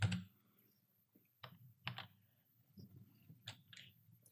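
Sparse keystrokes on a computer keyboard while a legal document is typed in Word, a few isolated clicks and short bursts spread over a few seconds, fairly close and quiet with no voices.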